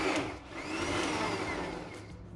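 A mixer grinder whirs as it blends prawn paste with maida flour and breadcrumbs, a steady motor drone with rising and falling whine, close and moderately loud, with no talk.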